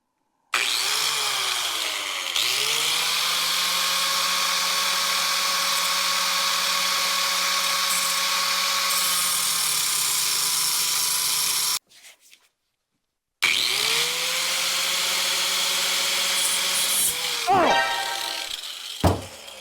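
Power saw cutting off a suspension stud on a 1982 Chevy S-10 square-body truck, a loud, steady whining grind sustained for long stretches, broken by a short pause before cutting resumes, with clunks near the end.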